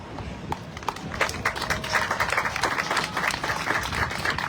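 An audience at a devotional lecture applauds in a sustained burst of clapping that swells after a quieter start and stays dense and moderately loud throughout.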